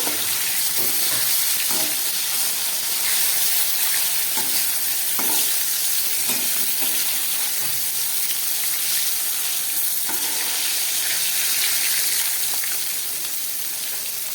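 Pieces of fish fry lightly in hot oil for a spicy fish curry, giving a loud, steady sizzle that runs without a break, with occasional scrapes and stirring knocks in the pan.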